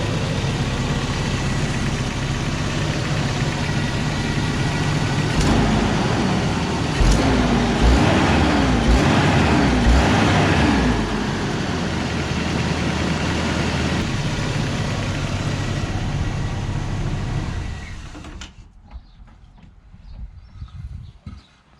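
A Toyota RA40 engine idles with a rough, steady rumble through a poor exhaust for most of the clip, then cuts out near the end, leaving quiet.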